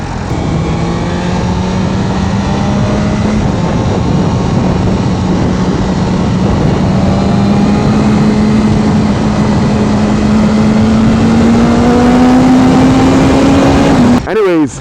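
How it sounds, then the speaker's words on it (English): A loud, steady engine drone from a 2025 BMW S1000RR sport motorcycle exhaust accelerating during break-in, tone slowly rising in pitch, ending with a brief rustle. "Even the exhaust tone changes."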